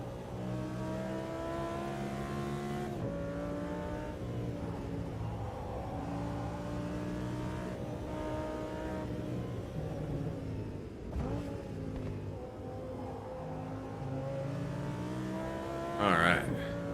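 An Audi race car engine in the Automobilista 2 sim racing game drones steadily at high revs with shifting harmonic pitch, a brief dip and gear change near the end, while a voice talks over it.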